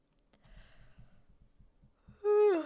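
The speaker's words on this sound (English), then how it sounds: "I'm yawning again for some reason" A soft, breathy exhale trails off, then a loud drawn-out yawn with a rising then falling voiced tone at the end.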